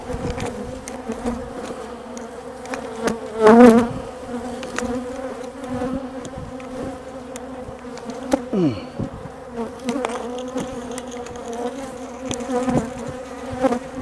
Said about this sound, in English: I have got some bees after me now.